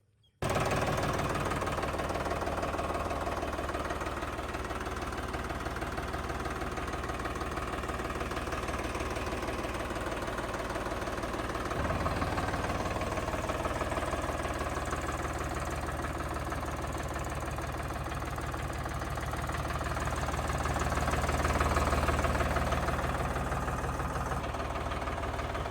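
A 2024 Solis 4515 E series tractor engine idles steadily, a close, continuous low mechanical rumble with a slight knocking rhythm and no voices.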